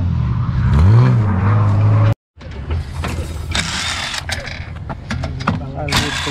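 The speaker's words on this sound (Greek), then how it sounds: "Βάλε μπρος και στρίψε το τιμόνι όλο." A drift car's engine cranks and starts, a whirring starter followed by a rough engine sound with mechanical clatter, loud and close after a brief silent cut, with people talking nearby.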